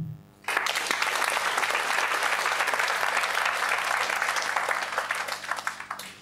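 An audience bursts into loud, dense clapping after a brief quiet start, sustaining for several seconds before thinning into scattered last claps.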